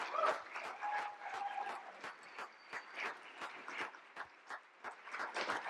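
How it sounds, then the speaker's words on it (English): Audience applause for award winners at a water conference, steady clapping from a crowd, moderately loud and continuous, with a faint tone lingering in the background. "If the individuals who are here can please come up to a big round of applause"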